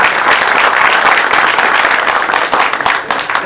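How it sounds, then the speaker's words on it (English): Dense, steady applause from a school board meeting audience, loud and close, filling the whole stretch without a break. "Let's give her a round of applause."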